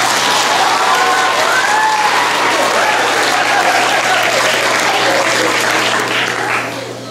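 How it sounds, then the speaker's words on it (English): A large audience at an elementary school geography bee claps loudly and steadily for several seconds, a dense, sustained wave of applause that tapers off slightly at the end. "let's give them another big round of applause"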